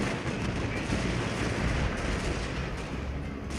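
Rifle troops firing in Total War: Fall of the Samurai: a steady, dense crackle of overlapping musketry, moderately distant and unbroken throughout, with no talking.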